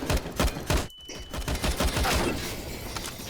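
Rapid automatic gunfire rattles in close, dense bursts during a CS:GO match, with a short pause before the shooting resumes.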